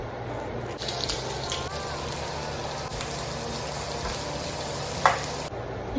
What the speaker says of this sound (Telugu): ఇప్పుడు కొంచెం ఆయిల్ యాడ్ చేసి ఆనియన్స్ అవి ఫ్రై చేసుకుంటా.